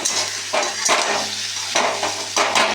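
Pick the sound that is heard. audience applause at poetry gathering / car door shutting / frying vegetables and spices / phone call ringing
frying vegetables and spices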